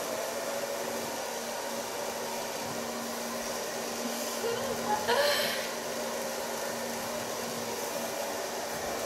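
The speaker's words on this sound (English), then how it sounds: "By blow drying it with my fingers, I can give it that edgy feeling." A hair dryer blows steadily throughout, a loud, constant whooshing roar close to the listener, with a brief rustle partway through as fingers work through an edgy asymmetric haircut.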